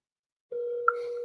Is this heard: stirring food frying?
no